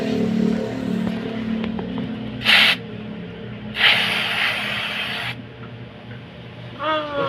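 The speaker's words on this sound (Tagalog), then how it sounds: "So lilinisin natin gamit yung spray jet spray na cleaner." Jet spray cleaner is sprayed onto the starter rotor magnet of a Yamaha XMAX 300 in two hissing bursts, a short one and then a longer one lasting about a second and a half, close up in a quiet workshop.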